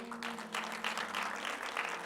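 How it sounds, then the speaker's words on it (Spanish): Church congregation applauding for the King during a Spanish-language sermon, a steady wash of clapping from a crowd, moderately loud and continuous for the whole stretch, with a low hum underneath. "den un fuerte aplauso al Rey"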